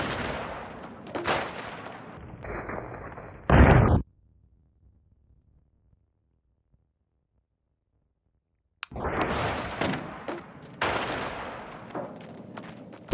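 Gunfire from a semi-automatic rifle in a homemade video game: a burst of sharp shots up front, a heavy blast, a long silent gap, then another run of rapid shots, loud and close.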